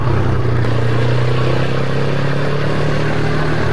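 A quad bike engine drones steadily and loudly at close range through a corner, with a constant hum and rough clattering texture and no voices.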